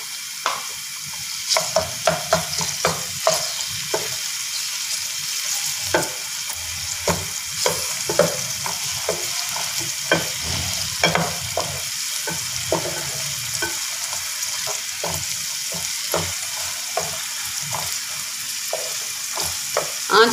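Onions sizzle steadily in a hot pan with ginger garlic paste for a home-style Hyderabadi daal, a continuous frying hiss broken by frequent scraping and stirring clicks from a spoon, close up with no talking.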